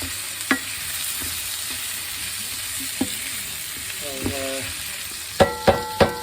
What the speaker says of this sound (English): I'm sauteing the onions so they're about right